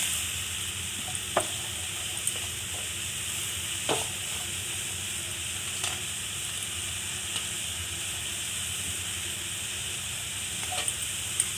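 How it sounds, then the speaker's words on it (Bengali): Papaya pieces simmer in a pot of boiling water, producing a soft continuous bubbling hiss with a few faint clinks and taps scattered through. "বন্ধুরা দেখুন, জলটা ফুটতে শুরু করে দিয়েছে। এবার আমি পেঁপেগুলো দিয়ে দিলাম।"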